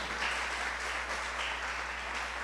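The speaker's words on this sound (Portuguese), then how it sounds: "Vamos dar um aplauso" Applause from a church congregation during a children's service, a steady soft wash of many hands clapping at a distance, with a low constant hum underneath.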